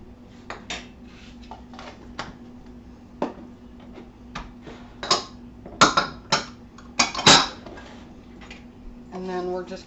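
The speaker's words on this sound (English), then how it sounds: "And then we're just going to mix this all up really good." Ricotta cheese filling for a meat lovers lasagna being mixed in a bowl, with irregular clinks and scrapes of a utensil against the dish, some sharper knocks toward the middle, under occasional talk.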